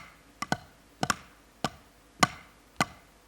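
Drum sticks tap out a right, right, left, left sticking pattern in quick, light pairs of sharp clicks, close and fairly quiet with no talking.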